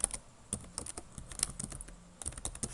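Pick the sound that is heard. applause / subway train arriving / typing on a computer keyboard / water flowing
typing on a computer keyboard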